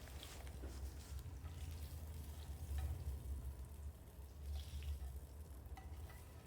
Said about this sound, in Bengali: এখন আমার আলু বেগুনগুলো ভাজা হয়ে গেছে